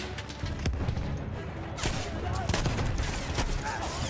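Shotgun blasts in Battlefield 1 land as a handful of loud, close booms spaced a second or so apart amid heavy battlefield noise.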